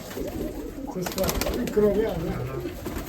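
Mykolaiv pigeons in a loft in Tsarychanka coo softly near the microphone, a low burbling call under people talking.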